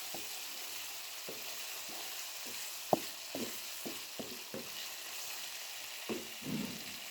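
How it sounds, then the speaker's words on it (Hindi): Keema minced meat fries in a pan with a steady low sizzle, punctuated by repeated scraping stir strokes and one sharp tap of the spoon, fairly quiet and without talk. "कीमे की करने लगी मैं अच्छी से भुनाई।"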